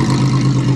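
Engine of a battered 1990 Celebrity wagon revving hard, a loud, rough, sustained low roar held for a short burst.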